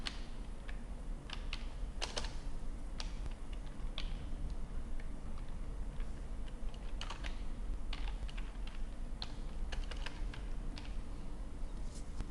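Code is typed on a computer keyboard, an irregular run of quick close key clicks with short pauses and occasional firmer strokes, over a quiet steady background hum.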